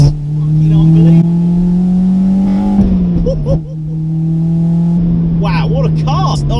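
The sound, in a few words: Honda EP3 Type R engine accelerating through a corner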